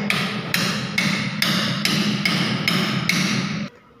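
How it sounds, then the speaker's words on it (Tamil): Hammer blows drive a metal window grill into place, eight sharp, evenly spaced strikes about half a second apart, loud and close over a low background hum that cuts off at the end. "இப்போ பாய் வந்து இதை உள்ளே நல்லா அடிக்கிறாரு."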